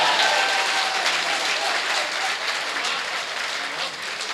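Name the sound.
audience applause at a mushaira poetry gathering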